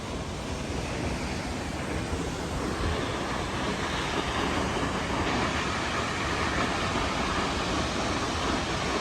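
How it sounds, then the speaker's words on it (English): Steady, loud roar of rushing water, a constant broadband wash with no pauses, like a big waterfall close by. "it's a big waterfall"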